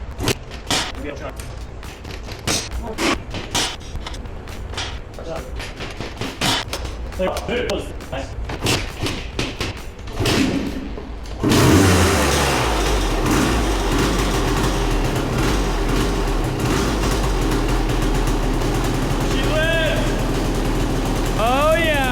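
A Honda CR250R two-stroke dirt bike fires up after several seconds of talking and clunking handling noises, then runs loud and steady close by for the rest of the stretch.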